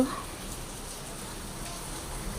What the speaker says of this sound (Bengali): চা খাবো বৃষ্টি দেখবো